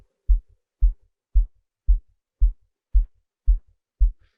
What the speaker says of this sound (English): Let's listen to the kick now.